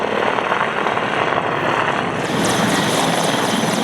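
A Mi-35M attack helicopter flies nearby, its rotor and engine making a loud, steady, broadband roar throughout, with no voices.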